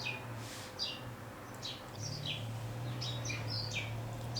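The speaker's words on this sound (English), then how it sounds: "The birds are loud," Birds chirp outdoors in short, bright, high tweets scattered over a low steady hum, moderately distant and fairly faint, with no voices.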